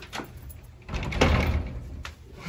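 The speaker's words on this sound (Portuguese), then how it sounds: "quer nem abrir a porta mais" A stuck door in an old, long-empty house is forced but won't open, giving a scraping, rattling series of shoves and thuds that peak midway through.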